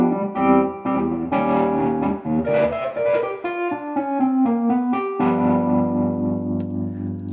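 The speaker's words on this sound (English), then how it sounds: "Add some distortion." A sampled Wurlitzer electric piano line with a gritty, overdriven distortion, notes stepping down and then holding a sustained chord.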